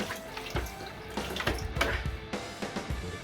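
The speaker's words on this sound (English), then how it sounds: "A bit of a rinse." Water runs from a tap to rinse a scooter part during a respray job, a soft continuous splashing stream with uneven spatters as the part moves under the flow, faint and close.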